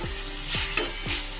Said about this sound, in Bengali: ভেজে রাখা আলুগুলো দিয়ে খুব ভালো করে কষিয়ে নেব।